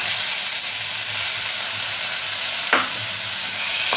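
Chopped tomato frying and being stirred in a pan for a street-cart style pav ragda dish, giving a steady close sizzle with a couple of brief scraping stirs, no voices.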